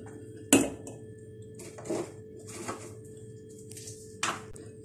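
A spoon scraping and clinking against a pot while stirring thickening homemade condensed milk, a few sharp metallic taps scattered over a steady low hum, close and fairly quiet with no talking.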